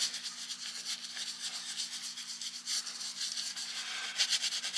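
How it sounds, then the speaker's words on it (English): A paint brush scrubs paint onto canvas in a quiet, continuous bristly rubbing with a steady back-and-forth rhythm, heard alone and close. "Scrubbing this in just to have something out there."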